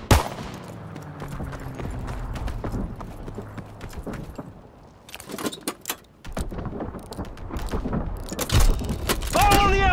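Gunfire in the World War II shooter Call of Duty, with rapid bursts and scattered shots crackling over mechanical clatter, surging and fading, then returning loud near the end.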